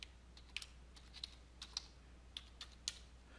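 A password being entered on a computer keyboard while a user is set up in Windows Server: quick, light, irregular key clicks, about a dozen taps over a few seconds, close but very quiet against a low steady hum.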